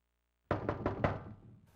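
Four quick, solid knocks land on a door in The X-Files video game, sharp and close after silence, then fade away.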